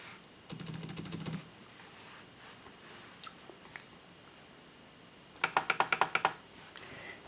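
Keys clatter on a computer keyboard in two quick bursts of typing, one short run near the start and a louder rapid run of distinct clicks later, with quiet room tone between.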